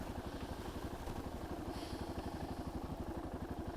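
A 2013 Yamaha MT-03 single-cylinder motorcycle engine thumps steadily at close range, with a rapid, even pulse running through the whole stretch and no one speaking over it.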